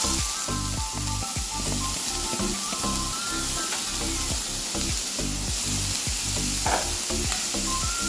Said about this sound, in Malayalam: നമുക്ക് ക്യാരറ്റ് ഇട്ട് കൊടുക്കാം